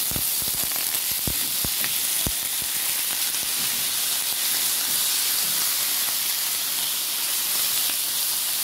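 Garlic and pork sizzle loudly in a hot pan for pork adobo: a dense, steady frying hiss with a few sharp crackles and pops early on, close up and continuous, with no voices.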